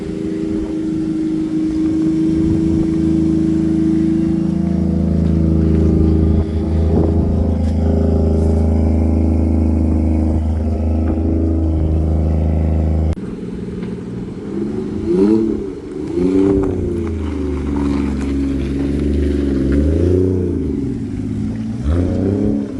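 A BMW E30 being built as a drift car starts up and runs, its engine a loud steady idle that rises and falls in several revs toward the end.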